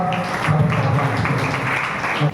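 A church congregation at an evening Lent service claps to welcome a guest teacher, a short burst of scattered applause with a voice faintly underneath.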